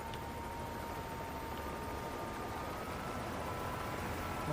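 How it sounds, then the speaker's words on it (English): A helicopter in the Xbox 360 game Frontlines: Fuel of War gives a steady, dense rotor and engine roar that holds constant throughout, broad and noisy with no voices over it. "Our opponent's in a chopper."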